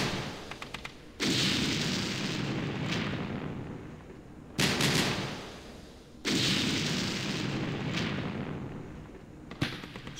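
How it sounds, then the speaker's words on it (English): Artillery barrages in the Campaign Series Middle East war game, set in the Second Arab-Israeli War at the Rafah crossing: two long rumbling bursts of shellfire, each opening with a loud crack and rolling on for several seconds, with sharp isolated blasts between them. "We threw almost all of our arty on that side"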